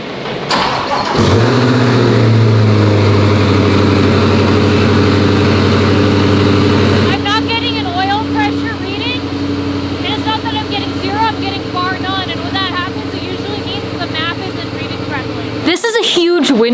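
A twin-turbo C8 Corvette running a Holley Dominator standalone ECU fires up and settles into a loud, steady idle with a deep, tonal rumble, then cuts off abruptly near the end.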